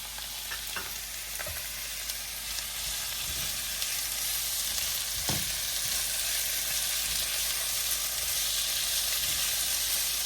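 Tomatoes sizzling in a hot pan as they fry for a bitter melon dish, a dense continuous hiss and crackle held close and loud throughout, with a few faint stirring clicks and no talking.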